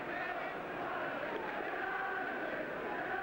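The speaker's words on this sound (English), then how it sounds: "Crowd at the Kop end." Football crowd at the Kop end of Liverpool's ground during a 1969 league match, a steady dense roar of many voices filling the whole stretch, loud and continuous with no single shout standing out.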